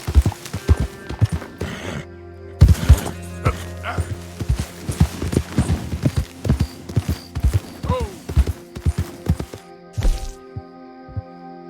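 A horse's hooves clip-clop in Red Dead Redemption 2, loud and close, in uneven bursts with sharp cracks and other game noises mixed in.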